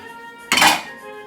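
Canned tomatoes tumble into a metal pot of chickpeas over high heat, making one short, bright clatter and splash against the pot before it quiets down.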